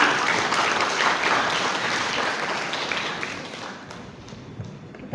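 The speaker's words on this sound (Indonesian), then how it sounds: "Kasih aplaus dulu buat Pak Dekan." An audience in a university law faculty hall applauds the dean with dense, loud clapping that slowly thins and fades toward the end.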